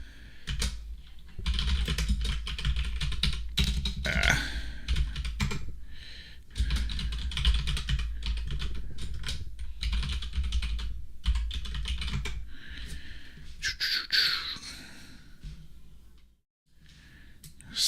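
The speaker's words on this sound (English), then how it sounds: "Sorry about all the typing in the background." Computer keyboard typing runs nearly throughout, a continuous close clatter of irregular keystrokes with brief pauses.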